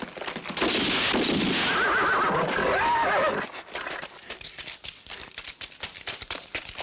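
A horse neighs loudly and at length, then its hoofbeats clatter on for several seconds in an uneven rhythm, with no talk.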